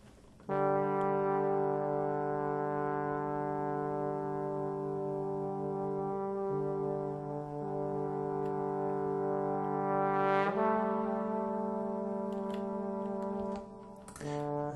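Sample Modeling virtual trombone played back through software, sustained brassy tones held long and loud with a shift in pitch partway through, then a short break and a new note near the end, with no voices.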